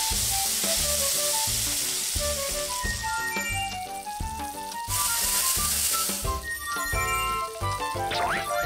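Food sizzles in the Wii game Cooking Mama Cook Off, a continuous frying hiss under bouncy, rhythmic game music with chiming notes.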